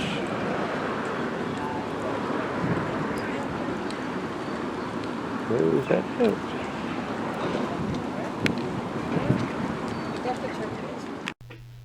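Constant wind rushing and buffeting the microphone outdoors near Bowness, a steady roar with brief voices talking underneath partway through.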